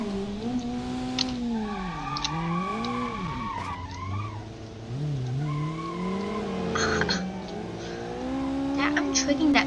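Car in the BeamNG.drive video game during a police chase, engine revving and wavering while tires squeal through long skids, loud and continuous with someone talking over it.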